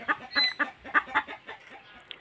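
A chicken clucking close by in a series of short, uneven, throaty calls, moderately loud, with a few quieter clucks trailing off at the end.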